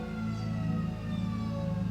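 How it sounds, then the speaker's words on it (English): An emergency siren wails continuously, loud and near, a steady tonal blare with faint pulsing, no talking over it. "I don't know if y'all heard that siren"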